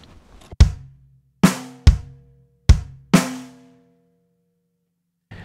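Drum kit groove from the second bar of a song, with a slightly varied bass drum pattern: five loud, close hits in an uneven rhythm, each ringing out, then a pause before another begins. No talking.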